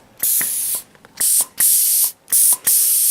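Compressed air blasting from a portable air tank in five short loud bursts, each a harsh hiss lasting about half a second, separated by brief gaps with faint clicks of the valve.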